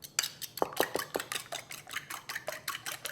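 Two eggs whisked quickly in a bowl with a utensil, a rapid run of sharp clinking taps against the bowl at a steady brisk rhythm, close and fairly loud, with no voices.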